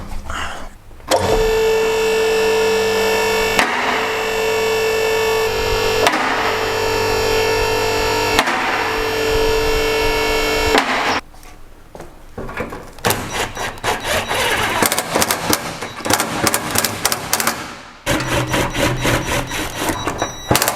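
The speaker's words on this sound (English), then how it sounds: "the first thing we're going to do is get it up on the ramp" An electric workshop vehicle lift raises a Mitsubishi L200 pickup with a steady motor whine in several long bursts, then gives way to rougher clattering and mechanical knocks.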